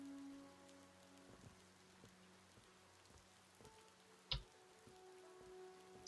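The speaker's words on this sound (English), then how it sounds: "Yes, it's raining." Faint, steady rain falls outdoors as a soft patter, broken by an occasional louder drip.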